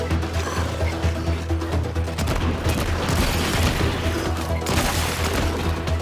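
Gunfire in a video game rattles out as dense, continuous bursts and booms, loud and crowded throughout with no pauses.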